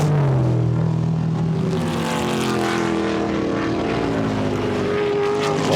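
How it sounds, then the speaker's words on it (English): Ford Falcon Sprint race cars battle at Goodwood's Members' Meeting, their engines a loud, continuous roar with rising and falling pitch as the cars pass close by, no pause throughout. "that's the battle between the two quickest Ford Falcon sprints"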